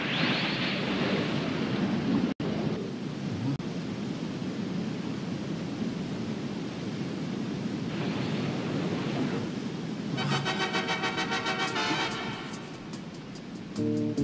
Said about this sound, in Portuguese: Não sei onde ela está por causa do barulho da cachoeira